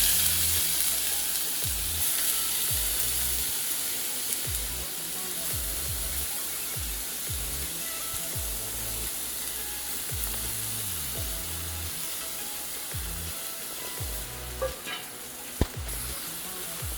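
Grated beetroot sautéing in ghee over low heat for halwa, a soft continuous sizzle broken by repeated scraping and stirring strokes from a spoon in the pan, with a few sharper clinks near the end.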